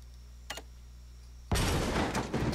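A sharp click, then a sudden loud explosion burst from a bomb placed in an Unreal Development Kit game, with a roaring noisy tail that flares again before fading.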